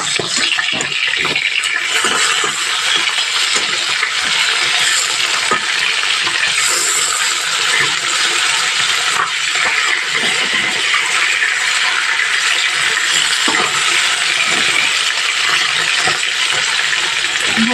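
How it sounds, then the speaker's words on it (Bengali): Bata fish frying in hot oil gives a steady, loud crackling sizzle, with a few faint clinks along the way and no talking. "ভালোভাবে একটু কড়া করে ভেজে নেব"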